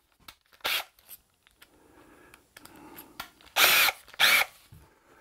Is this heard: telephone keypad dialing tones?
no